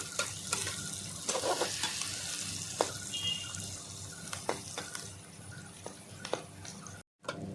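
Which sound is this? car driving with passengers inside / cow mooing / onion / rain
onion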